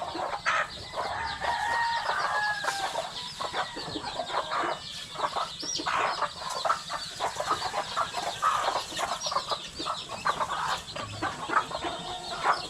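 Backyard chickens cluck and chatter steadily around a rural home in the early morning before being fed, several birds close by with overlapping calls and no talk.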